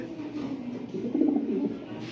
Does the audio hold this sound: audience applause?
no